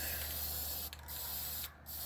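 A spray can hisses steadily and then sputters, the spray cutting out briefly twice before resuming, close and fairly loud.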